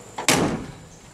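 A Mustang's glove box lid shut with a single solid thump, like a small door closing, close by, followed by a short fading rattle.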